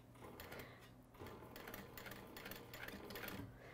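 A sewing machine slowly stitches a tote bag seam, its needle chattering in short, uneven runs with brief pauses, faint and close, with no one talking.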